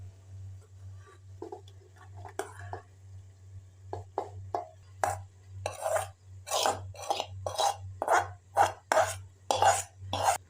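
Fried cluster beans and potatoes are stirred into gravy, giving soft scrapes early on and then a quickening run of sharp spoon knocks against the pan, all over a steady low mains hum.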